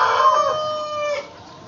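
A pet chicken lets out one loud, close, drawn-out squawking cluck with a strained tone, fading quickly into quiet.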